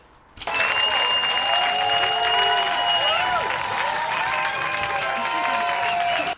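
Audience applause at a French rap battle event breaks out after a brief quiet start and holds as a loud, steady wash of clapping, with crowd noise and some tonal background sounds running underneath.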